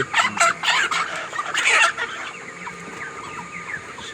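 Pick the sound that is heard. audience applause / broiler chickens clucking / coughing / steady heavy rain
broiler chickens clucking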